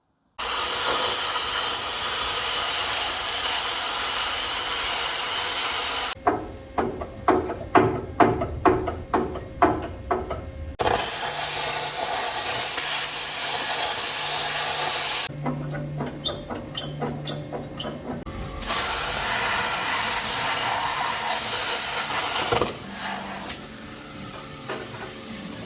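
Metal rear subframe of a Brat being cut down to sit over an S10 frame, a loud continuous harsh grinding hiss with a stretch of rapid sputtering bursts in the middle, no talking.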